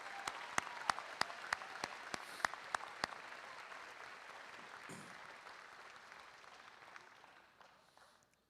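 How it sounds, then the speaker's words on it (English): A graduation ceremony audience claps for families and friends, opening with several loud, sharp individual claps near the microphone over a broad crowd applause that gradually thins and fades away by the end. "can we please give a big round of applause to all the families and friends who are here today"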